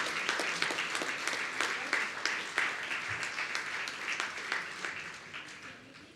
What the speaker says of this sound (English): big round of applause for the convention chairman